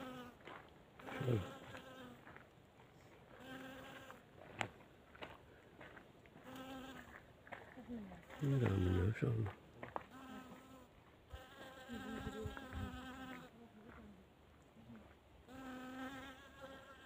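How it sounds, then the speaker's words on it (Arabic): Bees forage on flowering plants outdoors, their faint buzzing drifting in and out as individual insects pass closer and then move away. "يرعى منها النحل هذا، ما شاء الله يرعى منها النحل"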